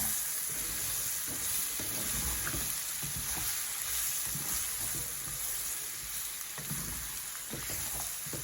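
Fresh backyard-garden vegetables cooking in a pan for beef with covo, a continuous soft sizzle and hiss with faint bubbling and occasional stirring taps, steady and close, no talking.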